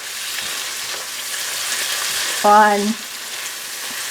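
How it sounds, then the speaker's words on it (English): Mushrooms and onions simmer in Worcestershire sauce in a pan, giving a steady, close sizzling hiss that runs throughout, with a brief voiced sound near the middle. "I'm just going to let this sit here and simmer"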